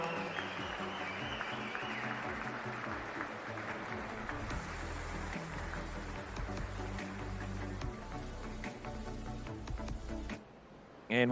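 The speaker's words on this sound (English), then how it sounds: "Let's give him another round of applause, ladies and gentlemen." An audience at the New Zealand Swimming Championships finals applauds in a large echoing pool venue, a sustained moderate clapping wash mixed with crowd noise that drops off abruptly near the end.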